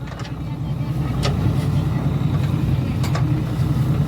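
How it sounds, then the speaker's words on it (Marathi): A tractor engine runs with a steady low rumble close by as the ride goes on, with a few brief sharp knocks over the drone. "ट्रॅक्टर तर कसं बघा गाईज"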